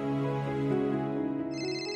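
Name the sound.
mobile phone ringtone ringing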